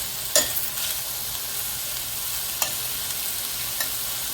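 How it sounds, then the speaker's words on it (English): Red onions cooking in a pan with a steady low sizzle, punctuated by a few brief scrapes and clinks of stirring. "we're going to let that cook a little bit until they get a little soft"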